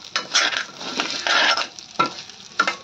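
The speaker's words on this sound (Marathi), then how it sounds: "तांदूळ छान तुपावर असे लालसर भाजून घ्या" Rice roasts in ghee for kheer, with close, irregular stirring scrapes against the pan over a soft, crackly sizzle and no voices.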